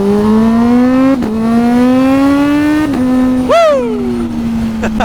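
A Kawasaki Z H2 motorcycle engine roars loud and close, its pitch climbing through the gears with quick dips at shifts. Near the end comes one sharp rev blip, then the engine settles back.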